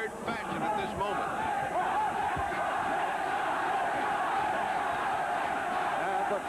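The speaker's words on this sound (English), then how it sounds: "Crowd is chanting for Bou Ali as we go final seconds, first round." A boxing crowd roars and chants for Kamel Bou Ali against Rocky Lockridge in a continuous dense din through the closing seconds of the first round, while a commentator talks over it.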